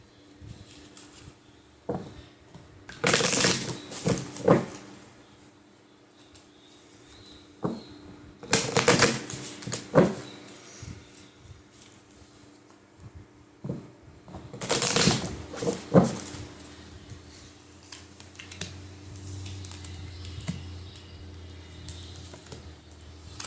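Tarot cards are shuffled in three close, crisp riffling bursts spaced several seconds apart, with softer card handling and small taps between them and no talking.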